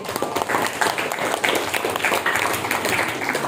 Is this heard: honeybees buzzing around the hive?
no